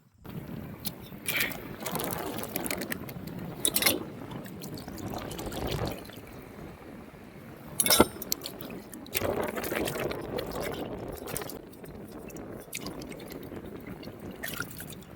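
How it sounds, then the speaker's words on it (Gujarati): Cooking utensils are rinsed in river water at a riverside campsite, with intermittent splashing, pouring and clinking at close range, coming in uneven bursts over a quiet outdoor background. "હવે આપણે મિત્રો પહેલાં આપણે વાસણ ધોઈ આવીએ"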